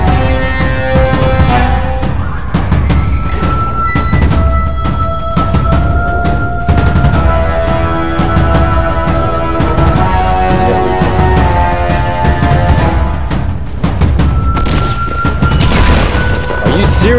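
Shotgun blasts and other gunfire in a video game, with a rapid, dense run of loud bangs and booms over music-like tonal game sound throughout.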